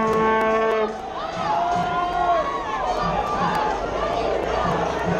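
A vuvuzela horn blares a steady droning tone over a loud stadium crowd, then gives way to the crowd's rising murmur and shouts, with voices heard in the mix.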